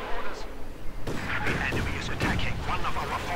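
Katyusha rocket artillery firing in a war strategy video game, a series of sharp booms and crackling blasts close together, mixed with other battle noise beneath ongoing commentary.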